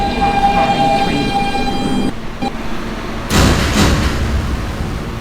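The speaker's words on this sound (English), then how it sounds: "This is a Brooklyn-bound W local train." An R160B Siemens subway car rides on a New York W local train, a steady rumbling rail roar with a whining tone that drops out briefly, then a louder surge of clattering wheel noise, heard from inside the car.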